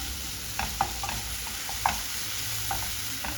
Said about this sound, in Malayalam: ഇതിലേക്ക് ഒരു ടീസ്പൂൺ ജിഞ്ചർ ഗാർലിക് പേസ്റ്റ് ഇട്ട് കൊടുക്കാം ഇനി ഇത് നന്നായിട്ടൊന്ന് വഴറ്റാം